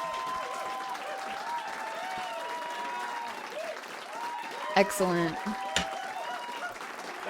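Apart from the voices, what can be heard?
applause from audience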